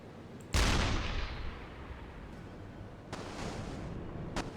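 A U-boat deck gun fires in a naval video game, one sharp boom followed by a long rumbling decay, then a second, softer blast rolling out, with no talk over it.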